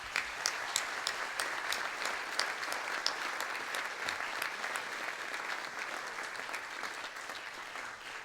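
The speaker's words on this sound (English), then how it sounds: "So the first round of applause I'd like to give is to each of you" An audience claps steadily for several seconds, a dense, even applause that slowly tapers off.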